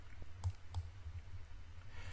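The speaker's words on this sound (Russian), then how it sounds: "Кликаем по ордеру и подтверждаем отмену ордера." A computer mouse clicks a few times while cancelling a trading order in a trading platform, soft short taps over a faint background hum with no talking.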